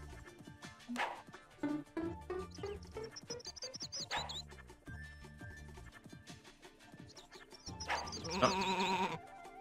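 Sheep in the Sheep Raider video game bleat in several distinct, clear calls, set against bouncy game music with cartoonish sound effects, loudest near the end.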